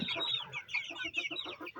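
Roosters clucking close by, a rapid run of short, bright, throaty notes in a quick rhythm with no talking.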